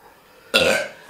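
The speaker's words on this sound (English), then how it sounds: "Sorry for the burps." A single loud, close burp from a person eating extremely spicy noodles, one abrupt guttural belch lasting about half a second after a quiet lead-in.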